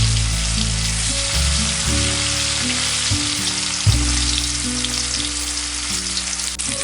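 Potatoes fry in moderately hot oil in a large wok over medium heat, giving a continuous, close, crackling sizzle with a low tonal hum running underneath.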